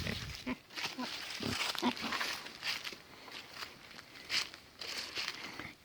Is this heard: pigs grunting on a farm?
yes